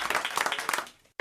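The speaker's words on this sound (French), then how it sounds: "on vous applaudit" A short burst of studio audience applause on a French radio show, dense clapping that fades out before a sharp cut.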